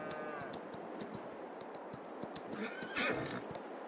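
Horse in Farming Simulator 22 giving a loud whinny near the end, over a steady run of clip-clopping hooves throughout, no talking.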